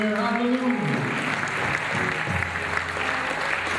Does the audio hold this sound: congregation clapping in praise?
yes